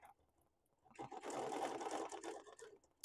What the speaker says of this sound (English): all ruler quilting on this machine, a sit-down long arm by Bernina